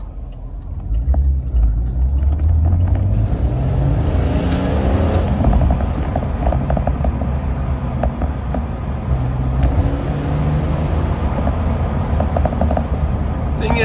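An E46 BMW M3 engine rumbles loudly and steadily, its pitch climbing as it accelerates, with a constant low drone of road noise underneath.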